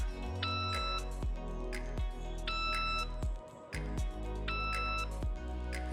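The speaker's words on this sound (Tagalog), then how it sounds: "So once nag-beep na po siya" A surveying GPS receiver beeping as it nears a stake-out target point: three repeated electronic chime-like tones, loud and close, with steady ticking under them.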